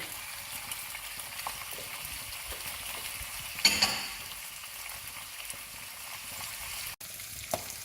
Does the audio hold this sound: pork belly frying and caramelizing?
yes